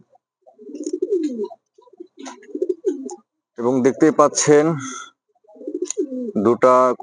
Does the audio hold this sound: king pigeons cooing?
yes